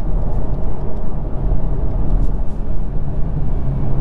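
Low, rumbling exhaust burble from a 2021 Mk5 Toyota Supra 2.0 in sport mode, loud and steady with a rough, crackly texture throughout, no voices.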